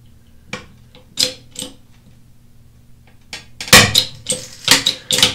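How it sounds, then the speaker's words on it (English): Glued wood joints snap and crack under load in a glue strength test, a few sharp loud breaks with sudden clattering impacts separated by quiet gaps. "But it looks like we have some wood breaking."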